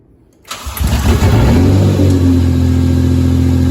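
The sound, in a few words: swapped 2JZ-GE engine cranking and starting in a Nissan 240SX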